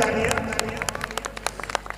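Loud audience applause at a Ramlila performance in Azadpur honouring guests: scattered, crisp claps from a crowd over a sustained musical hum, the individual hand strikes standing out unevenly across the burst.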